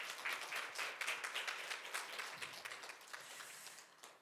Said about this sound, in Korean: 오늘 대표님께 여러분 다시 한번 큰 박수 보내주시면 고맙겠습니다.